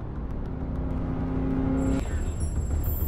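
An Abu Dhabi traffic police patrol car on a chase, with steady engine and road rumble from a passing car. The noise shifts abruptly partway through, and a thin high whine enters near the end.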